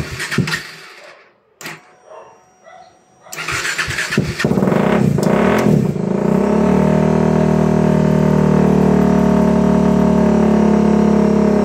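Motorcycle or car engine catching after a jump start from a low battery, with a few short cranking bursts, then a loud steady idle that settles in close and continues to the end.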